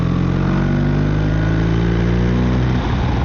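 A BMW R1300RT motorcycle engine drones steadily while riding, a loud, close, even hum that dips briefly near the end as the gearbox shifts.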